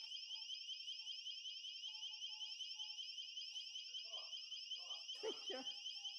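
A gate alarm sounds continuously, a steady high electronic tone held throughout, with faint scattered sounds and a brief louder voice or knock near the end.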